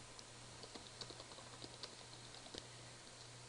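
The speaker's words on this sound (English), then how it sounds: "We're going to type" Computer keyboard typing: a quick run of light, crisp key clicks in short uneven bursts, close and quiet over a low steady hum.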